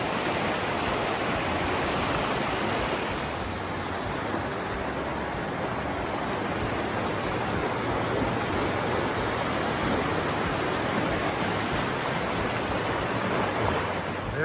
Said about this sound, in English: This is the Gardner River.